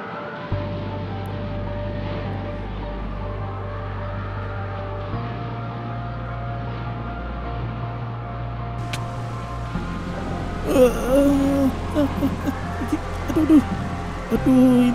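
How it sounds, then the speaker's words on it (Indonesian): Strong tornado wind roars steadily in Minecraft, a dense broadband rush with a low droning hum underneath, growing rougher and more turbulent toward the end. "anginnya deras banget"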